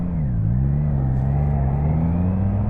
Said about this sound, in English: Yeah, definitely got that triple purr to it though.